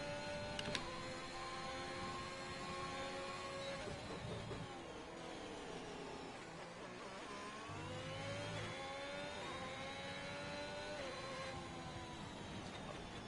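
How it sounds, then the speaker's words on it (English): A high-pitched Formula 1 engine in the video game F1 2021, Austria track, whines steadily, its pitch climbing and dropping as it shifts through gears, heard at low volume with no talking. "Let's enjoy the sound of his engine."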